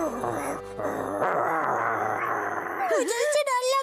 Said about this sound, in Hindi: गुर्राना बंद करो। सुना नहीं?